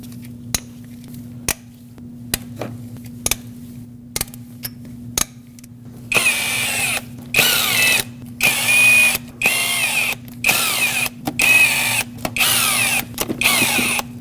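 A 12mm socket on a ratchet loosens intake manifold bolts on a 2006-2015 Lexus IS250, first as separate sharp clicks and then as bursts of rapid ratcheting, loud and close against a steady low hum.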